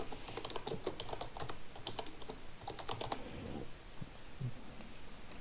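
Keys clatter in quick irregular bursts as a project name is typed on a computer keyboard for video editing software, close and alone with no talking.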